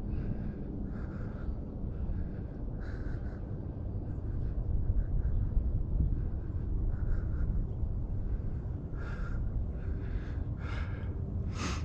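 Cold, gusty wind buffets the microphone at an outdoor model-airplane flying field where an E-Flite Turbo Timber Evolution is flying, a steady low roar that swells and eases throughout with no voices.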